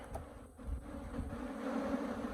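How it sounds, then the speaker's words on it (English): A swarm of Africanized honeybees buzzes in a steady, dense drone around a hive box, close and continuous without a break. "there is a lot of bees"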